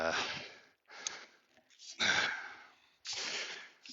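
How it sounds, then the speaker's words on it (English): Heavy, rasping breaths from a man who has smoked heavily since age 13, four loud, close huffs and exhales separated by short pauses. "So mind my heavy breathing"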